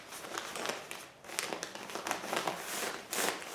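Fiberglass insulation is ripped into strips and tucked behind ductwork, making soft crinkling and tearing rustles up close in short bursts with no talking.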